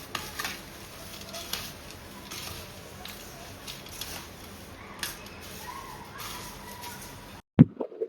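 A spoon stirs a hot Diwali snack mixture in a pan, producing a steady close scraping and rustling with light sizzle and a few sharper clinks, and a louder clatter at the end.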